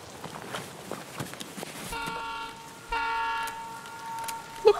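Train horn blaring in the Escape from Tarkov video game as the train departs, a sustained toot sounding twice at moderate distance over quiet game ambience.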